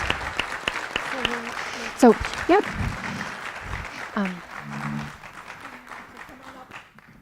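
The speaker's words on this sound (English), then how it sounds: "Let's give a big round of applause and congratulations to our award winners." Audience applause for scholarship award winners at a school board meeting, a dense patter of clapping running throughout and fading toward the end, with a few spoken words over it.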